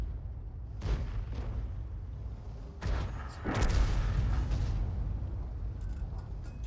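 An SU-14-2 artillery gun firing in World of Tanks: a few deep booming shots over a steady low rumble, one heavy blast near the middle, with no voices.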